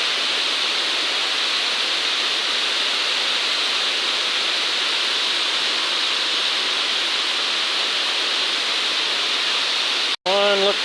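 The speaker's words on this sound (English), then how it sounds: "It's a really nice waterfall." Waterfall on the Appalachian Trail, a steady, loud broadband roar of falling water that fills the scene without a break, then cuts out abruptly near the end as a short burst of voice briefly takes over.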